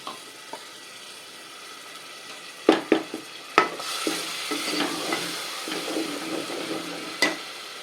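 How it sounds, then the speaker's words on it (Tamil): Tomato paste hits hot oil in a pan while making Udupi tiffin sambar, bursting into a loud sizzle with sharp spattering pops and stirring knocks, then settling into steady frying crackle. "இந்த தக்காளி பேஸ்ட்டை நம்ம வந்து இதில் விடுறோம்"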